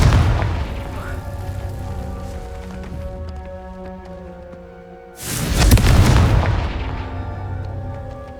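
A Confringo blast spell explodes in Hogwarts Legacy, a single loud, booming burst about five seconds in that rolls out over a steady background of game music.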